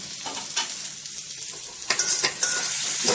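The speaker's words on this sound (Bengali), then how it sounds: "আমি ভালো করে মশলাটাকে কষে নেব" Spice masala with chopped tomato and salt being stir-fried in a pan for chicken curry, with a steady close sizzle and bursts of spatula scraping and stirring, no talking.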